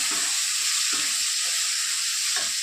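Steady, bright sizzling of potatoes frying in hot oil for a cauliflower and potato curry, continuous and close with faint stirring clinks, no talk.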